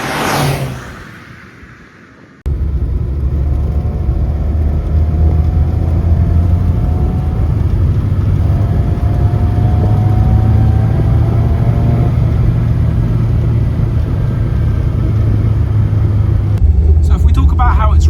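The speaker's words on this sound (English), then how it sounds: "The car's not overheating, the brakes are working well, the engine is getting better and better as I drive it." A limited edition Rover Mini drives along a road, its engine giving a steady droning rumble with rising whine under road and wind noise, while a person talks over it; the start is quieter before the drive noise sets in.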